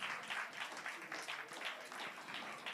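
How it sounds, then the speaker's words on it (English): An audience at a Bahamas real estate conference applauds its panelists, a soft, continuous patter of many hands clapping, somewhat distant and quiet throughout. "One more round of applause for our panelists."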